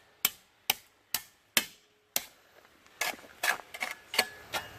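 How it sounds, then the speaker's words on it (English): A shovel tamps asphalt pothole filler on a driveway: sharp, evenly spaced thumps at first, then a quicker, busier run of scraping and knocking impacts, close and fairly quiet. "I'll just kind of tamp it down like"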